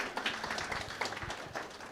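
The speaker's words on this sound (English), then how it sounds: "Let's clap it up." An audience claps at an evening book launch in a forum hall, a dense, even patter of many hands that holds steady at moderate loudness with no talk over it.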